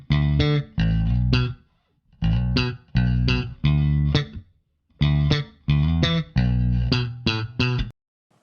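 Bass guitar on a Jazz-style bass played through a GK Legend preamp with the upper mids turned fully up, a sequence of punchy plucked notes in short phrases with clear, defined attack, separated by brief pauses.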